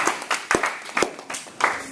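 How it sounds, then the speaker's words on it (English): A small classroom audience at a college persuasive-speech session claps for a student. Only a few people clap, so the individual sharp claps come sparse and uneven, about half a dozen distinct hits over two seconds. "Let's give this guy a round of applause."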